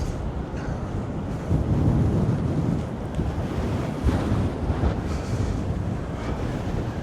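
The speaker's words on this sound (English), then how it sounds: "this stormy weather, you can probably hear the wind whistling through the railings" Stormy wind roars and buffets past seaside promenade railings at Blackpool, with rough surf beneath, a continuous loud blustery wash with gusts and microphone wind noise throughout.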